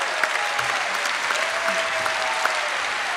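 A live audience applauds a folk singer with loud, dense clapping that holds steady for a few seconds, a few sharper claps standing out.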